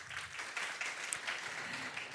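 Audience applause in a hall at an international symposium on crop wild relatives, a soft, steady wash of clapping heard fairly faint and alone.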